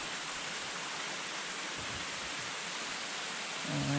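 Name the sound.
small waterfall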